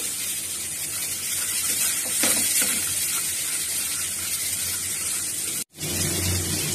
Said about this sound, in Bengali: মশলাটা ভাজা হয়ে গেছে